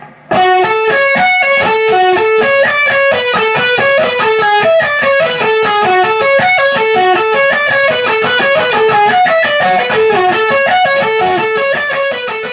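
Slow electric guitar sweep-picking lick, played through heavy distortion: a continuous run of stepped, ascending and descending arpeggiated notes, loud and close, with no talking.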